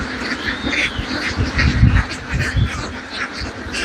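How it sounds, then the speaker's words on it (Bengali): Ducks on a free-ranging duck farm quack repeatedly in a lively flock, with overlapping calls near and farther off over a low outdoor background. "হাঁসের খামার দেখুন"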